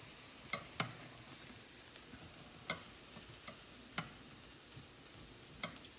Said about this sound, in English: you are going to stir the rice one last time